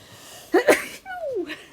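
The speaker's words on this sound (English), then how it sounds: "Oh, I'm gonna sneeze." A single sharp sneeze, with a short breathy intake beforehand and a brief vocal sound just after.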